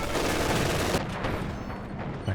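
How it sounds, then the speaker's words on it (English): A machine gun rattles in rapid, loud bursts in the Company of Heroes 2 battle, the fire holding steady across the short clip before easing off at the end. "focusing on the machine gun"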